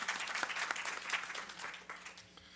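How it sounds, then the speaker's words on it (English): Audience applause at a film festival panel discussion, a steady wash of clapping from a crowd that holds for a few seconds and slowly thins toward the end. "Huzzah, we applaud you."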